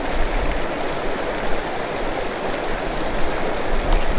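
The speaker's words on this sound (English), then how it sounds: "Nice, nice, nice deep hole under the waterfall." Water pouring steadily over a waterfall into a deep pool along a stream in southern Colorado, a loud, continuous broadband rush with no pauses, close by and alone.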